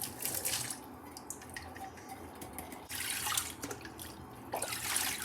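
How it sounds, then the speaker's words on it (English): Warm water poured over goat meat to rinse off preservative, splashing and trickling in uneven bursts close by, with drips between pours and no talking. "And when you throw off the water, you catch some warm water."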